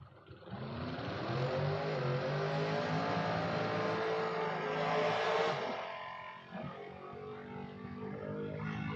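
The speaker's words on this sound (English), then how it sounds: "as they both roll into the water box here" Two drag race cars, one a Nova, rumble as they roll into the water box at a King of the Creek event. Throaty engine noise swells, holds, then drops back to a low idle.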